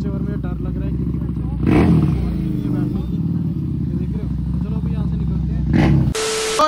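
KTM 390 motorcycle with a loud, modified exhaust, idling with a steady throb close by, then two sharp rev bursts; people talk over the engine.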